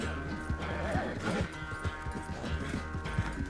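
A horse in the Red Dead Redemption 2 video game gives a whinny over a run of rhythmic hoof clip-clops, heard close and fairly loud against game ambience.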